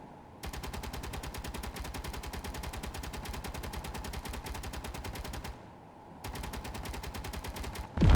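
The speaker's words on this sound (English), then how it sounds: "as soon as that turret starts firing" Missile turret in the game Space Engineers firing in a rapid, continuous automatic stream, pausing briefly before a second sustained burst, loud and close.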